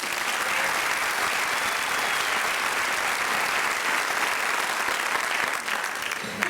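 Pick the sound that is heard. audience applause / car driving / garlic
audience applause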